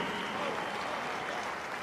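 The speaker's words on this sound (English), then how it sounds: "Another round of applause for Mr. Nick Pisanelli from Newberry, Ohio." Applause from a stadium audience at an Ohio State football event, a dense steady clatter of many hands filling the whole short stretch without pause.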